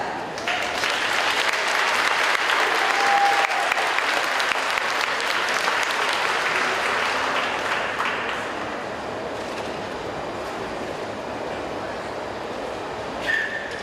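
Applause from a banquet audience at a school academic awards night, a dense, loud wash of many hands that fades into a steadier, quieter patter partway through, with faint voices underneath.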